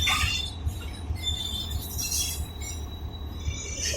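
Millat Express train departing, a steady rumble of rolling wagons with faint wheel squeal and clatter, continuous and fairly close, no talk.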